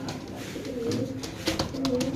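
Pigeons of a pair coo close by in low, throaty rolling calls, repeated a few times over a soft background.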